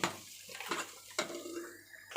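A little water poured into masala in a cooking pot while preparing a home-style Tamil dish, giving a few brief splashing bursts with clinks of metal pot and utensil, close and moderately loud, with no talking.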